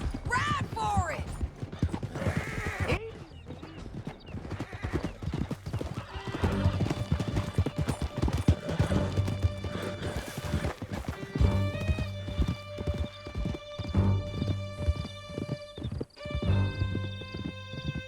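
Horses gallop in the western video game Red Dead Redemption 2, with rapid clattering hoofbeats close up, occasional neighs and whinnies, gunshot-like cracks, and voices speaking over the ride.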